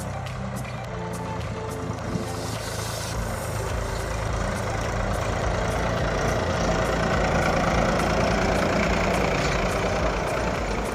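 A village tractor fitted with side lamps idles with a steady, low, rumbling hum that stays even and fairly close for the whole stretch.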